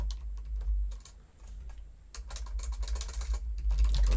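Fast typing on a computer keyboard while entering an SQL query, a dense run of crisp nearby keystrokes that pauses briefly in the middle before resuming in quick bursts.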